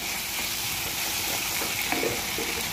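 Tomato sauteing in an okra masala, a steady close sizzle with light stirring scrapes and small pops, no voices.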